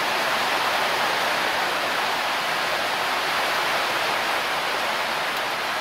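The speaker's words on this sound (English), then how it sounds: "Oh, the rain's just increased." Heavy rain pouring down steadily during a Honda CB750 motorcycle engine teardown, a dense, unbroken hiss that stays loud and even throughout with no voices.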